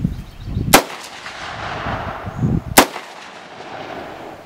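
Two loud, sharp gunshots fired outdoors toward a dam, a couple of seconds apart, each followed by a rolling echo and lingering rumble, with background noise between shots and no talking.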